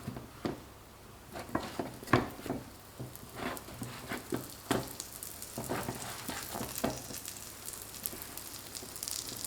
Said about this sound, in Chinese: 翻面以后继续烙，全程大约需要3-4分钟的时间。